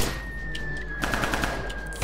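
Rapid gunfire from a horror video game crackles in a dense, steady burst lasting about two seconds at moderate loudness, with no voices over it.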